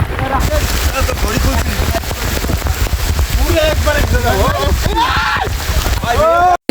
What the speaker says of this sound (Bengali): কিছু দূর যাওয়ার পরে শুরু হয়েছে বৃষ্টি